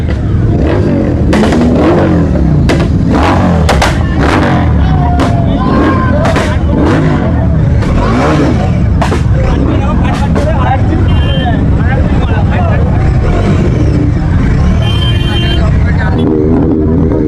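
A dense crowd of motorcycles jammed on a road at an Independence Day biker meetup, engines loudly revving and roaring close by in overlapping bursts, with voices mixed into the din.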